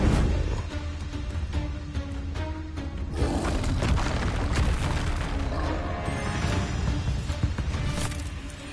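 Spell explosions from Confringo cast in Hogwarts Legacy combat, loud dense booms and crashes in a continuous barrage over game music and effects.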